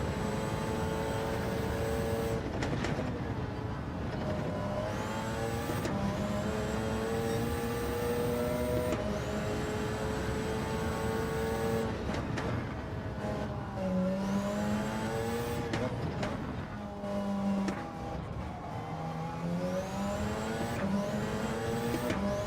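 Race cars roar past during a night endurance race at Road Atlanta, a continuous drone of high-revving engines with repeated gear-shift pitch sweeps as cars accelerate and pass nearby.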